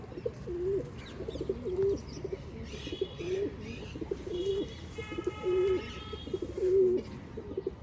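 Repeated soft cooing from pigeons on a rooftop, a low throaty call recurring every second or so against steady outdoor background noise.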